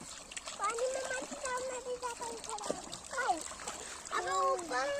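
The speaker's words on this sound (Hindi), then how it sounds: "मजा आ रहा है पानी में खेलने में" Children splashing and playing in cool water outdoors while washing hands, with light splashes and trickles under near-continuous chatter from excited kids.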